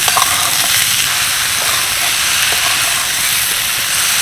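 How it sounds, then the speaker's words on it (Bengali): Amra (hog plum) pickle with sugar cooks in a pan, giving a loud, continuous close hiss and sizzle with faint stirring movement throughout and no voices. "এবার আমি এর মধ্যে দিয়ে দেবো আড়াইশো গ্রাম চিনি ভালো করে নাড়াচাড়া করে নেবো"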